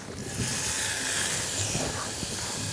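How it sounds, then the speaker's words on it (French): Red peppers and shallots sizzle in olive oil over medium heat, a steady broad hiss that holds at an even loudness close by, with no talking. "Et là, je vais mettre mes poivrons et mes échalotes."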